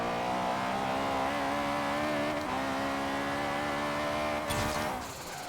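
A turbocharged 1997 Honda Civic Type-R, front-wheel drive and tuned past 700 hp, holds full throttle with a loud, sustained engine roar and tire spin, then a brief shift near the end.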